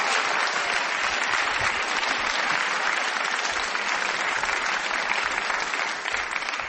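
Studio audience of a British radio panel game breaking into sustained, even applause, a full and continuous wash of clapping lasting several seconds and fading slightly at the end, with no talk over it.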